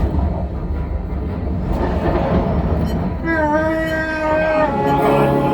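A steady, loud rumble of the Millennium Falcon: Smugglers Run simulator ride at Disney's Hollywood Studios fills the whole stretch, with a rising tonal whine joining partway through, under faint background voices.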